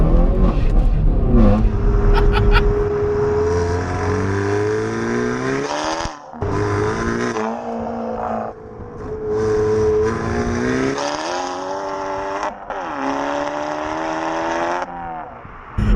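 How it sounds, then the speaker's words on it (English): A loud 320 bhp Hyundai i30 N hot hatch engine revs hard through the gears, the Milltek exhaust roaring and crackling between shifts, close up and sustained throughout. "One thing's for sure, it sounds epic. The Miltech exhaust system on this thing."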